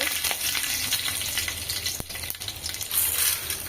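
Urad dal and chana dal fry in hot oil in a kadai, giving a steady, close crackling sizzle with faint stirring scrapes throughout and no talk.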